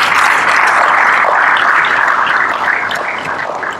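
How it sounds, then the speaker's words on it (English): An audience claps together at a formal meeting in Zanzibar, a full, steady burst of applause that gradually thins and fades toward the end, with no talking over it. "Can we clap for them also?"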